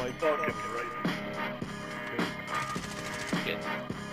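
Sniper rifle shots in Call of Duty Warzone ring out as several sharp cracks spaced about a second apart over a steady game backdrop, with brief radio-style callouts mixed in.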